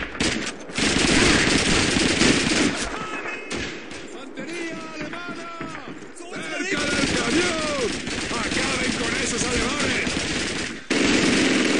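A German machine gun hammers out long, rapid bursts amid a Call of Duty 2 battle, with loud, dense gunfire broken by short pauses and shouting voices over the din.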